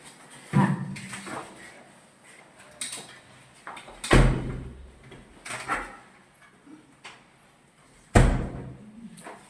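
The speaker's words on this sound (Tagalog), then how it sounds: "Yung pinto ulit, ma'am." A door in a house being inspected during move-in opens and closes, giving several separate thumps and bangs spread across roughly nine seconds, with quiet gaps and faint room noise between the hits.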